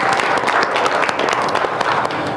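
Church congregation clapping together in worship, a loud, dense burst of many hands with sharp individual claps standing out.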